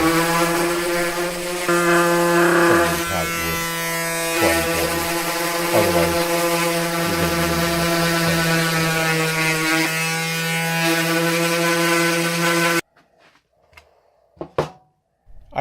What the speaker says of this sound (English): Here I am sanding it down, make sure that it's nice,